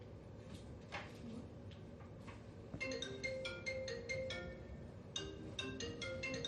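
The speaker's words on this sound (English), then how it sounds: "You don't hear that little alarm phone ringing?" A faint electronic phone alarm rings in a repeating pattern of short tonal beeps, steady and continuous in the background.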